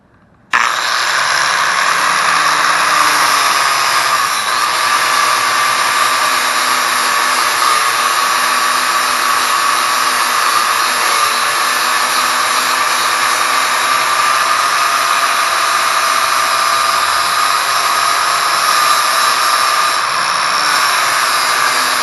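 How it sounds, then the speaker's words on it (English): A polishing wheel grinds a part from a Gy6 150cc scooter down to bare metal, giving a loud, constant high-pitched whine and hiss that starts abruptly and runs unbroken for over twenty seconds. "This thing will polish it all the way down to the metal."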